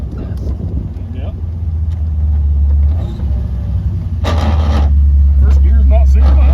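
An old Jeep with an unsynchronized first gear drives with a heavy, close engine rumble that swells and steadies over several seconds. A brief hiss of brakes and some low voices come in partway through.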